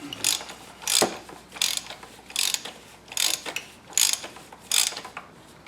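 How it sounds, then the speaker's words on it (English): A ratchet wrench tightens the oil filter on a 2003+ Saab 9-3 2.0L four-cylinder Ecotec, giving about seven crisp ratcheting strokes in a steady rhythm, close and clear. "then you grab your 1 1/4, take it and snug it up"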